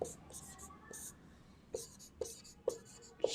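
Pen or chalk writes out a linear equation during a maths lesson, giving soft scratchy strokes and a few sharp taps, faint and close, with quiet breaths between marks.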